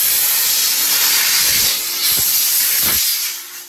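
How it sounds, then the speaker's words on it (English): A Dupray Tosca steam cleaner sprays a loud, continuous hiss of steam up close while deep-cleaning a bathroom, with brief pulses as the nozzle moves. The hiss eases near the end. "the steam and pressure will push that away"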